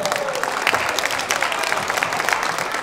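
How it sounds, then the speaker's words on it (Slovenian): Applause from the crowd at a kickboxing tournament in Kranjska Gora, a sustained dense clapping filling the hall throughout. "Aplavz."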